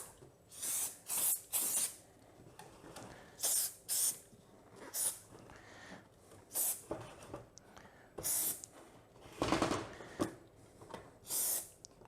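Short hissing bursts of Honda spray cleaner and polish, used as lube on a Cheetah dirt bike, come in quick separate squirts, some paired, with quiet gaps between them. The sprays are close and fairly loud, and nobody talks.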